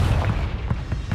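Confringo explosive spell blasts from Hogwarts Legacy on PS5: a run of heavy, booming impacts with a few sharper bursts rising out of a dense, continuous rumble.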